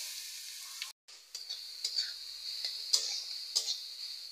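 Papaya pieces fry faintly in oil with bay leaf, red chilli and black mustard seeds for a chutney. A soft, steady sizzle runs throughout, broken by a few light stirring clicks, with no voices.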